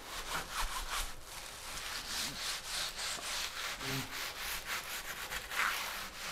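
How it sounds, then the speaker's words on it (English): Wooden stick molding burnished by hand with a fistful of wood shavings, giving a soft, continuous rubbing and scraping in quick back-and-forth strokes, faint and close, with no talk. "burnish with the shavings"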